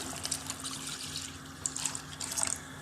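Milk poured into a pot of sago cooking for a mango dessert, a soft steady liquid stream with light splashy bursts near the end, close and quiet, with no talking.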